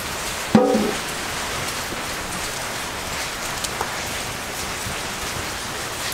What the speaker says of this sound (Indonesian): Ini aja karena hujan